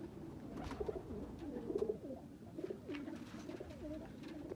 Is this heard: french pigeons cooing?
yes